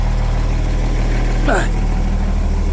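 A diesel car engine idles after starting, a low steady rumble with a regular throb, close and continuous, while a brief voice or sound rises over it midway.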